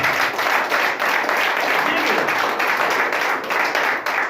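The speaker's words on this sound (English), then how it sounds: "Give me a hand clap." A church congregation claps along in a steady rhythmic beat, loud and close, with a voice carrying over the clapping.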